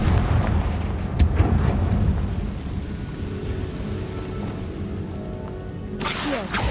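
Confringo fire spell in the video game Hogwarts Legacy, giving a sharp burst near the start followed by a long rumbling, crackling blast and a second loud burst toward the end, with no talk.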